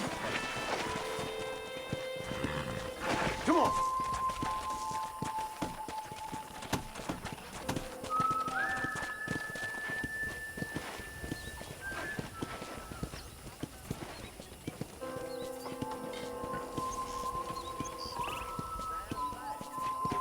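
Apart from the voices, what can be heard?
horse hooves clip-clop in video game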